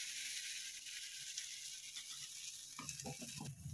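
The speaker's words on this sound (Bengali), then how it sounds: "গ্যাসের ফ্লেম মিডিয়াম হাইয়ের মাঝামাঝি রেখেই ছিটা রুটিগুলো ভেজে নিতে হবে।" Rice flour batter for chita ruti pitha fries on a pan over a medium-high gas flame, giving a steady close sizzle and hiss, joined near the end by a few brief scraping or stirring sounds.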